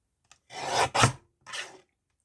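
Three short rasping scrapes of a blade cutting through layered paper, close up, separated by brief pauses.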